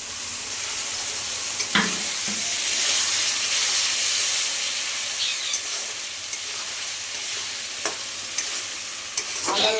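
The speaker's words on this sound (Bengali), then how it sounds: "আদা রসুনের গন্ধটা মরা পর্যন্ত আরও কিছুক্ষণ ভেজে নেব।" Ginger garlic paste fries in oil for Nepali-style chicken, a loud, steady sizzle with a hissing steam wash, punctuated by a few sharp scrapes and clacks of a stirring spoon, close by and without speech.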